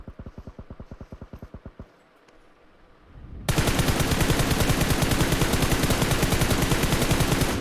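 Automatic weapon fire from the PUBG Mobile battle royale game bursts in rapid, evenly spaced shots, first as a moderate volley, then after a brief lull as a dense, loud, sustained stream of machine-gun fire.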